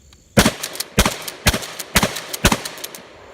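An Adaptive Tactical Sidewinder Venom magazine-fed shotgun fires reduced-recoil shells: five loud, sharp blasts at a steady half-second pace, each with a brief echoing tail, and no talking.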